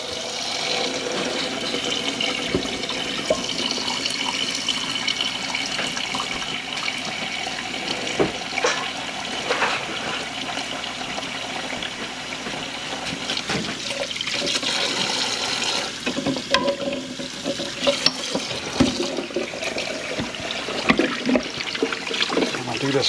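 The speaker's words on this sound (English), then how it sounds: "I'm going to get cold water, and I'm going to give them a cold water bath." Cold tap water runs steadily into a sink over a batch of freshly boiled backyard chicken eggs, a continuous close splashing rush with slight surges, with no talk over it.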